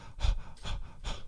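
A person imitating shallow chest breathing while running pants in three rhythmic, breathy gasps, close and moderately loud, with no other sound.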